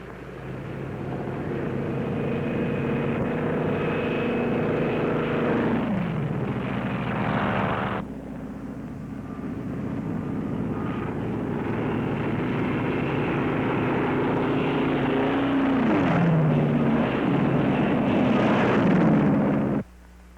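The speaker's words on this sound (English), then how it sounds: "the drone aircraft are launched and temporarily guided from the carrier" Drone aircraft launched from an aircraft carrier during the 1946 Operation Crossroads tests, a loud, steady engine roar that rises and swells, breaks off sharply midway, then builds again with sweeping pitch changes as the planes pass.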